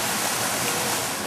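A waterfall in Tunisia: dense, roaring rush of falling water, loud and continuous without any break.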